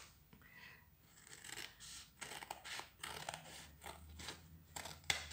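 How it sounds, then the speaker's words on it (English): Scissors snip repeatedly through card in a quick, uneven series of crisp cuts, close up and fairly quiet, with no talking. "take your scissors and cut between these tram lines"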